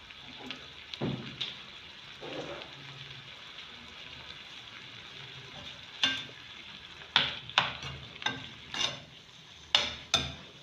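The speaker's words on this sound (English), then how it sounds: "You have to fry it for the color to change." Meat pie filling with salt frying in a pan, a low steady sizzle broken by sharp stirring scrapes and clinks, louder and more frequent in the second half, with no talking.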